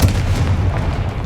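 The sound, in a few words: Confringo fire spell explosion, video game Hogwarts Legacy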